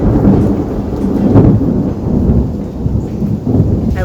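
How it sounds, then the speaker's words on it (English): Rolling thunder with steady rain, a loud, dense rumble filling the whole span and swelling midway, with no talk over it. "I love rain, but not thunder and lightning. Back to the thunder, apparently."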